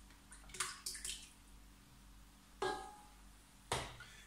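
Eggs and then milk poured into a Cooking Chef Gourmet mixer bowl for crêpe batter, a few short splashy plops and drips, close and soft with quiet gaps.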